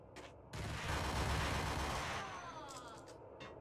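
A burst of gunfire in the video game Max Payne, a dense, noisy blast that swells and fades over a couple of seconds, with fainter mechanical clicks around it.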